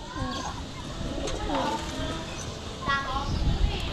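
Pigeons coo softly inside a loft, their low, throaty calls repeating under steady conversation and laughter nearby.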